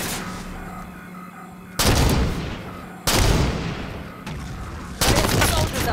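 A sniper fires in the video game Halo 5 Guardians. Three loud, sharp shots with echoing tails land at uneven intervals over a low background of battle noise.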